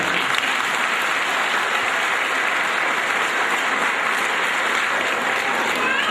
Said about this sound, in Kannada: ಇನ್ನೊಂದ್ಸಲ ಅವ್ರಿಗೊಂದು ಜೋರು ಚಪ್ಪಾಳೆ